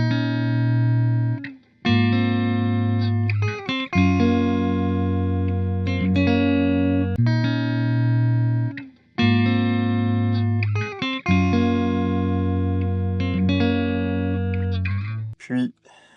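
Guitar melody built in FL Studio with effects such as reverb, playing as sustained chords and phrases in repeating bars, loud and alone with no voice over it.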